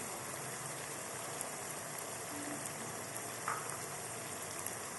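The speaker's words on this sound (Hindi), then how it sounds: "अब इसमें हम 4 टेबल स्पून दही के शामिल कर रहे हैं।" Yogurt going into hot oil over a frying potato and capsicum masala gives a steady, moderate sizzle and crackle throughout, with faint stirring clicks and no voices.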